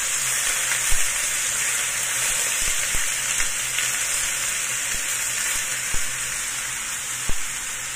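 Chicken pieces frying in a pan for chicken afritada, a steady hissing sizzle with occasional soft pops and light clinks, close and continuous, no talking.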